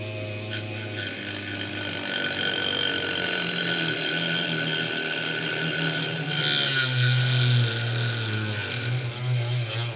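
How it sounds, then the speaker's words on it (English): A Dremel with a cut-off wheel grinding into a Sig Sauer P320 compact slide, a continuous high-pitched whine and abrasive rasp that shifts in pitch as the cut proceeds, loud and close, without talking. "we're just going to take a Dremel and a cut wheel, and we're going to start cutting away at this"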